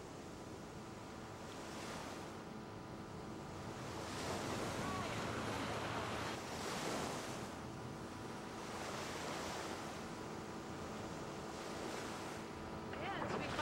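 Ocean waves surge and break near an island shore, a steady broadband wash of surf with wind noise across the microphone, swelling in slow pulses throughout.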